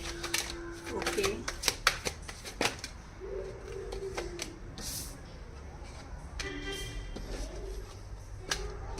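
Tarot cards being shuffled during a reading, a run of quick papery flicks and snaps in bursts, with low background hum and occasional bird-like chirps in the room.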